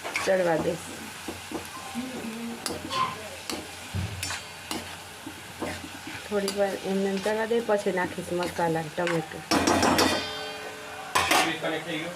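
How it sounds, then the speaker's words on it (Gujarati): Green onion curry stirred with salt in a home kitchen pan, a spoon scraping and clinking against the metal in repeated strokes over a soft sizzle, with a voice talking throughout. "હવે જો મીઠું નાખી અને હલાવીને ડીશ ઢાંકી લઈએ"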